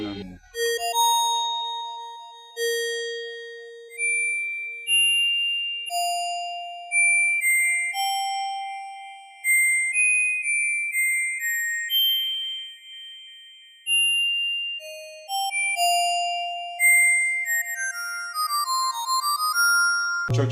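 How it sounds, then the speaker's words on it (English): Synthesized church bell tones from FL Studio ring out one after another, each strike decaying slowly, clear and alone with no talking. "Church bell."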